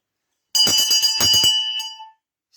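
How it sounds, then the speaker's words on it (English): A bellman rings a handbell in several quick, bright strokes over about a second and a half, loud and close, and then the ringing fades out into silence. "Steady on the bell."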